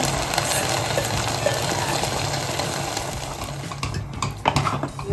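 Sago and jackfruit payasam stirred in a pan, giving a steady scraping, bubbling wash of noise throughout, with a few sharper clinks near the end and no voices.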